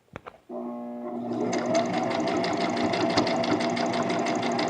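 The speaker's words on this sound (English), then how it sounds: "you can go ahead and finish your stitch and go all the way around the edge of the bib" Sewing machine stitching around the edge of a baby bib, starting after a couple of brief clicks and running as a steady, close, rapid mechanical whir that picks up speed and stays continuous to the end.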